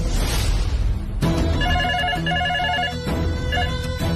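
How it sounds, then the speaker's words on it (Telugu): A home landline telephone rings loudly and alone, with a repeated electronic ring pattern of warbling tones in short bursts that begin after a brief pause. "ఓ పని చేద్దాం, ఇంటి ల్యాండ్ లైన్ ఫోన్ చేద్దాం."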